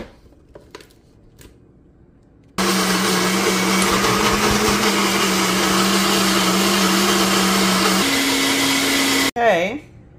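A blender whirs loudly and steadily for about seven seconds, mixing a Kachava acai coconut protein shake with strawberries; its pitch steps up near the end before it cuts off, with quiet clatter before and a brief voice after.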